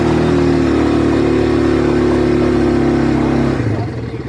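A car engine pulls steadily after the clutch is let out and the accelerator is pressed, holding a loud, close, even drone before easing off and fading slightly at the end.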